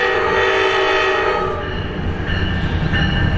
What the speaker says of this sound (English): that is indeed Manassas Line Train 329, MD36BHBC number B51 on the point